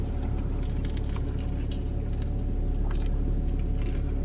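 Close, wet chewing of food that is crunchy outside and soft inside, with steady squishy crunches and no talking.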